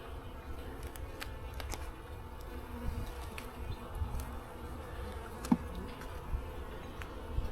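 Honeybees crawl over a brood frame in a low-population hive, giving a soft, continuous buzzing hum close up, with a few faint clicks and one brief sharp tap, and no talk.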